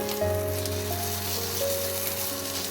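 Ginger and garlic paste fries and is stirred in a hot pan, a continuous close hiss of sizzling oil with a faint steady hum underneath.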